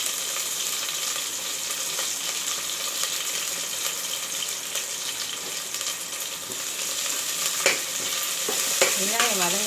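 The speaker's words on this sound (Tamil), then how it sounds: "சோம்பு பொரிஞ்சிடுச்சு, வெங்காயம் கருவேப்பிலையும் போட்டுக்கலாம்" Onion and curry leaves fry in hot oil with a continuous loud sizzle and crackle. Near the end a utensil knocks against the pan a few times.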